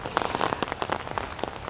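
Rain beginning to fall outdoors, a faint, steady patter of scattered drops hitting a surface, irregular taps spread evenly across the short stretch with no voices.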